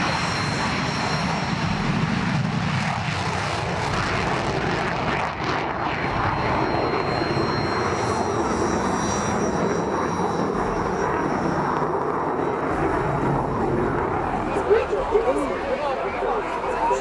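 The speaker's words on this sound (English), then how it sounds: "Dynamic display of Su-27 from Belarus at the air show in Radom, Poland ended in a crash" A Belarusian Su-27 jet fighter roars through a dynamic air show display at Radom, Poland, a loud sustained engine rumble and whoosh that swells and shifts, with voices murmuring underneath.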